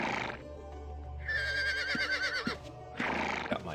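In a video game, a ridden horse lets out a clear, rising and falling whinny in the middle, with a few hoof thuds and breathy snorts before and after.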